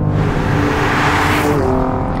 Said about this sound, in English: you get this nice little growl, this little grumble coming out of the exhaust